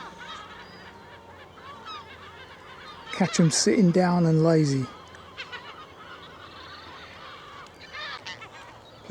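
A goose honks loudly in a short burst of harsh, repeated calls, nearby, while a person speaks quietly before and after, on a countryside walk near Huntingdon.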